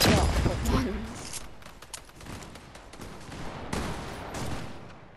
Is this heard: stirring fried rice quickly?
no